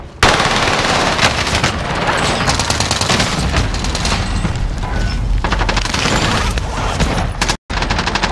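Call of Duty Warzone gunfire: loud, sustained automatic bursts close by, dense rapid shots with heavy booms mixed in, cutting out abruptly for a moment near the end.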